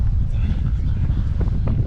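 Heavy wind buffeting a microphone on a golf course at Jacks Point, a constant low rumble with gusty swells throughout.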